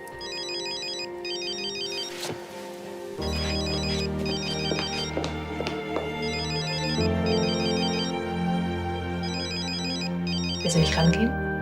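A telephone rings with a repeating electronic ringtone pattern, bursts of warbling tones separated by short pauses, over a quiet indoor background with a few faint knocks.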